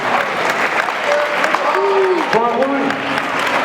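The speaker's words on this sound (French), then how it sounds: "on peut les applaudir." A gala crowd applauds children after a martial-arts bout, sustained clapping throughout. Someone speaks briefly over the applause, and a few tonal cheers or whistles rise in the middle.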